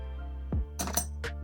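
Metal intake manifold bolts drop into a tumbler loaded with stainless steel pins, giving a thud followed by several bright metallic clinks and rattles over a steady low hum.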